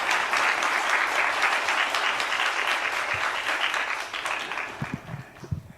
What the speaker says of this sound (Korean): 우리 목사님 나오실 때에 뜨거운 영광의 박수 올려드립니다.